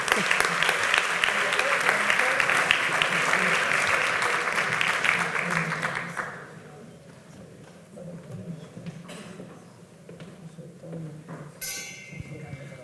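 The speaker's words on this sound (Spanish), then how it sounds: "y pueden aplaudir todos ahora." Audience at a renewable energy and life-cycle housing sustainability conference breaks into loud, dense applause for about six seconds, then it fades to a quieter room with scattered sounds.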